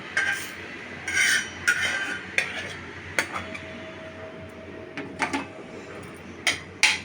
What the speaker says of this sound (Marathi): आता मी सुकं खोबरं भाजते